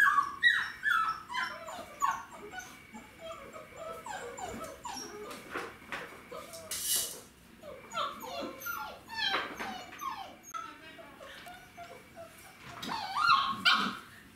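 Five-week-old puppies whimper, yip and bark in a busy, overlapping stream of high, close cries that rise and fall over several seconds, with no talk.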